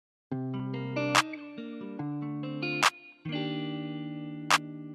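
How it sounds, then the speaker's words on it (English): A punchy electronic clap sample in FL Studio hits three times over a sustained, distorted synth chord that shifts pitch between the hits, in a trap-style guitar beat. "I started off with this first clap right here, and I put it down like this"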